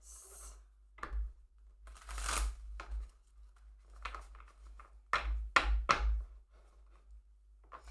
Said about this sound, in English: let's see, I'm going to really shuffle these